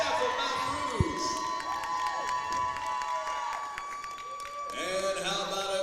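Crowd of fans cheering and shouting in a gym at a high school girls' basketball consolation game, a steady loud roar with whistles and sneaker squeaks throughout, rising again near the end.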